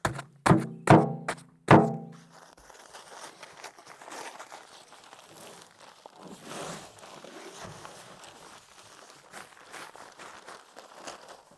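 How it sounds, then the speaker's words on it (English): Heavy 80-pound cement bags being torn open: three sharp, loud ripping bursts up front, then a stretch of softer rustling, shuffling and crinkling of paper as the material is handled. "I usually just rip them open."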